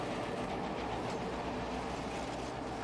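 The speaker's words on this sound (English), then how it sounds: "Great Northern, Northern Pacific, and of course, our Cascade Pacific locomotives operating on the layout" Model locomotives of Great Northern, Northern Pacific and Cascade Pacific Railroad lines run on a layout, giving a steady close rumbling roll with faint clickety-clack over the whole stretch, no talking.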